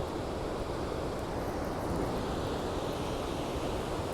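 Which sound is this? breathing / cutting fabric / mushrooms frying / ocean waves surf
ocean waves surf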